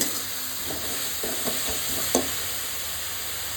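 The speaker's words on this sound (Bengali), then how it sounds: "সমস্ত কিছু আলাদাভাবে একটু কষাবো, যতক্ষণ না একটু তেল ছাড়ছে ততক্ষণ একটু কষিয়ে যাব" Spices and whole garlic are stir-fried in oil for a tilapia curry, giving a soft steady sizzle with a few light scrapes of a stirring spoon, close and quiet with no talk.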